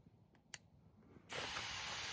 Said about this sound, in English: Oh, there's a mister.